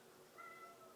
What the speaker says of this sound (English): If you had heard like a meow in the background, that is my cat.